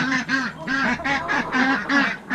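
Young farm chickens call in a quick run of about six or seven loud, close, nasal peeping cries, each short and evenly spaced, with no talk over them.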